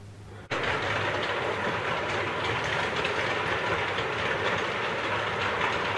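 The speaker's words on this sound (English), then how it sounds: "Here we go, here's our train." The Nighthawk train arrives with a sudden onset of steady, loud rumbling and rail clatter that fills the whole stretch, close by and continuous, with no talking.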